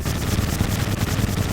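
A cannon in the game Terraria fires a rapid, dense barrage of booming blasts that blur into one loud, continuous rumble of explosions with no pauses, close up and with no talking over it.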